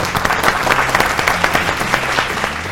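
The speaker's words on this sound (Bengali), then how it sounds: "জোরে একটা হাততালি।" A studio audience on a Bengali family game show claps loudly and steadily, a close, dense burst of applause with faint crowd murmur beneath.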